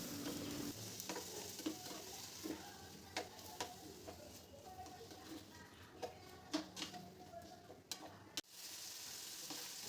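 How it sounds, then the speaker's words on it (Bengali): Cut cucumber pieces frying in oil over high heat, a faint sizzle beneath scattered light clicks and taps of stirring, quiet and steady for several seconds. "শসাটা তেলে দেওয়ার পর আমি গ্যাসটা জোরে দিয়ে 1 মিনিট মতন এটাকে ভাজবো"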